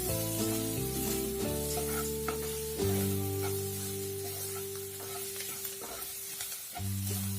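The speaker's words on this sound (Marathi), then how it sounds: "आपण थोडं मीठ टाकून घेऊ, मग आपला कांदा लवकर परतेल." Chopped onion fries with salt in a pan as the base for dhaba-style dal tadka. A steady sizzle runs throughout with occasional stirring scrapes, while a tonal melody with no singing plays underneath.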